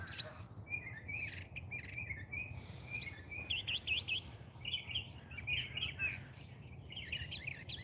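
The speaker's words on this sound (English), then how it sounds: "Bird sounds very pretty, isn't it?" Birds chirp and tweet outdoors in Florida, with continuous bright trilling calls repeating over a low background hum. Moderately close and with no talking.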